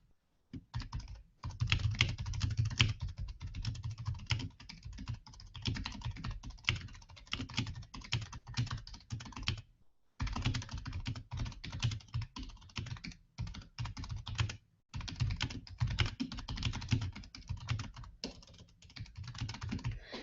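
Steady typing on a computer keyboard while composing post text for a Facebook post, a close, continuous clatter of keystrokes with two brief pauses and no talking.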